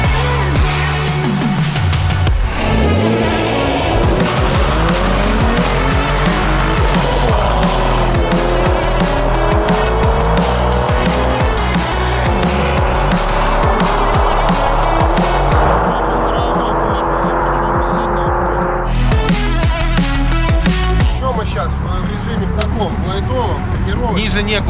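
A 700-horsepower VAZ 2107 and a 380-horsepower Toyota Supra roar through a drag race, engines revving up in rising sweeps as tires spin and squeal, loud and close, with voices over the noise.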